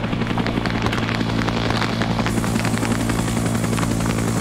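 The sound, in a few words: Huey helicopter landing, from a Vietnam war video game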